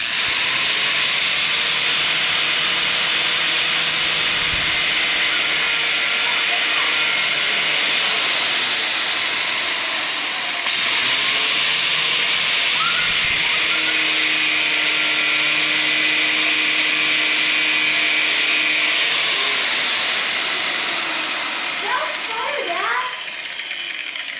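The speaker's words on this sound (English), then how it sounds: "I have a grinder here, and that's what I'm going to use to cut." An angle grinder cuts through metal while installing forward controls on a Harley-Davidson Dyna Street Bob, a loud steady high-pitched whine that runs almost unbroken, with a brief pause midway and a voice at the end.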